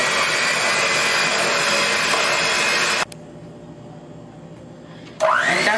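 Electric mixer beating eggs into chocolate chip muffin batter, a loud steady high whir that cuts off abruptly, leaving a quiet kitchen hum before the motor starts up again.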